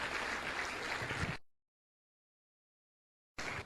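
An audience bursts into strong applause for a short stretch, then the sound cuts to complete silence before the clapping briefly returns at the end.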